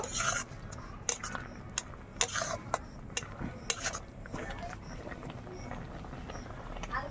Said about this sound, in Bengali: এভাবে একটু খুন্তি দিয়ে নাড়িয়ে দেব।